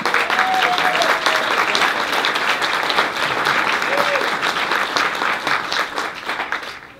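Wedding guests break into loud, sustained applause for the bride's parents, with a few whoops over the crowded clapping before it tapers off near the end.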